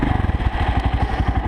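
An Irbis XR250 (Viper V250VXR) 250cc motorcycle rides on damp asphalt, its engine giving a steady, close, pulsing low rumble with even rapid firing beats throughout and no talk.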